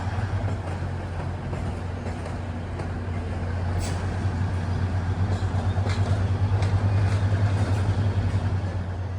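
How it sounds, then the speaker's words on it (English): A UP Express Nippon Sharyo diesel multiple unit arriving from Pearson Airport beneath the CN Tower in Toronto, a steady low engine drone with a rising rumble and faint wheel clatter, heard from a high perch with no talk. "As a UP Express arrives from Pearson Airport with those Nippon Sharyo DMUs"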